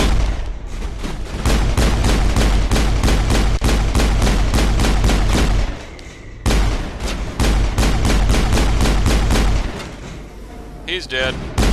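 Rapid, loud gunfire from the Mass Effect video game, dense repeated shots in a steady stream with a short break in the middle, then a final burst.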